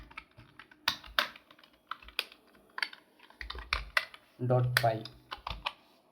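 Keys clatter on a computer keyboard in Visual Studio Code, close and fairly quiet, in irregular bursts of taps with short pauses, while a voice speaks softly in between.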